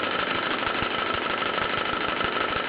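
A Bowman M167 model steam engine with a partly blocked exhaust port runs unevenly, giving a continuous loud chuffing hiss with irregular faint knocks underneath.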